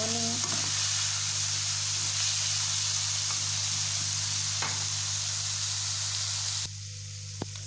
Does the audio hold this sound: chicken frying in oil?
yes